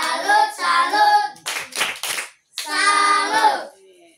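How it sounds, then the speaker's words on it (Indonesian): Children at a church fellowship clap through a tepuk salut chant, with bursts of rhythmic hand claps between stretches of sung or chanted voices. "Ayo tepuk salut."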